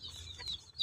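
Soft clucking from a few Indian native country chickens over a low rumbling background, brief and fairly close.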